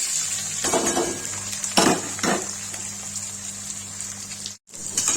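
Cumin seeds and onion crackle in hot oil for a potato and ridge gourd curry: a steady bright hiss with a few sharp utensil clatters on the pan, fairly quiet and close.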